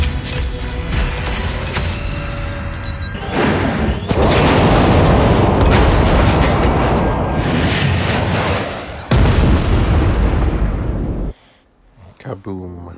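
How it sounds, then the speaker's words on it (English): A nuke detonating in Call of Duty Mobile, a long, loud roaring blast with rumbling booms and mechanical creaks that drops off abruptly near the end, with a voice talking over it. "Nothing like a good nuke"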